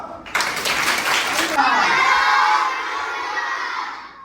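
An audience at a magic show breaks into a brief burst of loud clapping, then children's excited shouts and cheering carry on noisily over the fading applause.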